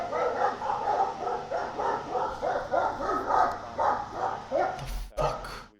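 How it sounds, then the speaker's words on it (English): Dogs barking repeatedly in a steady run of loud, close barks, ending with a sharp clatter. "Freaking dogs."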